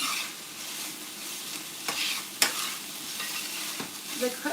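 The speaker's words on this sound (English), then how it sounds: "onions and the meat are starting to caramelize together" Onions and carne asada sizzling and frying over high heat, stirred with a few scraping clicks and taps of the utensil over a steady close hiss.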